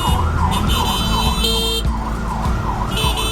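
A wailing ambulance siren passes on a street in Cebu, Philippines, loud and close, its rising and falling tone continuous over traffic rumble and steady engine noise.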